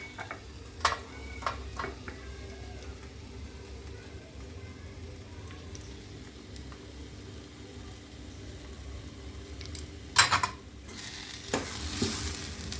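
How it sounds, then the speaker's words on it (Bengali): Fish chop filling stirred in a pan with garam masala and chopped coriander, quiet low sizzle under a few sharp spatula scrapes and clinks, louder bursts of stirring near the end. "গরম মশলা আর ধনেপাতাটা দিয়ে আরেকবার মিশিয়ে নিচ্ছি"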